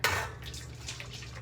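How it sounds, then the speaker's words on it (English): Water poured into a pot while making fresh mozzarella, heard as a short, faint splashing trickle lasting just over a second, close by and without speech. "So I'm gonna put water in here."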